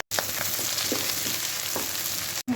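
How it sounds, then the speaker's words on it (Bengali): Chopped onion and whole spices with bay leaves hit hot oil in a pan, setting off a loud, steady crackling sizzle with a few soft stirring scrapes, cut off abruptly at the end. "তো এখন তেল দিয়ে আমি পেঁয়াজ কুচি দিয়ে দিচ্ছি"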